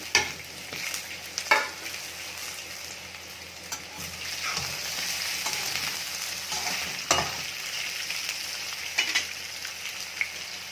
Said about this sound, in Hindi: लहसुन हल्का ब्राउन हो चुका है, मैं अभी आलू डाल दिया।